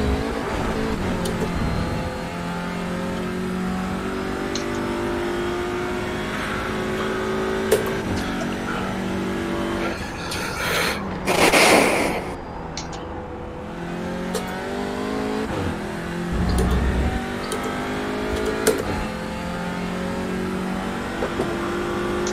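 A race car engine from a sim racing game on the Donington Park circuit drones steadily at high revs with shifting harmonic tones, one brief louder surge midway, and no voices.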